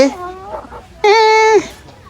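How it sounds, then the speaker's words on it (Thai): Silkie chicken vocalizing close by, a short harmonic call followed by a louder, sustained squawk lasting about half a second, with faint background noise. "นี่จะเป็นไก่ซินกี้"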